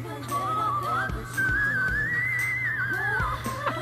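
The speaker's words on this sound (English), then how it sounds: "That whistle." A sustained whistle from a concert audience glides up and wavers for a few seconds, loud and close, over a steady background hum.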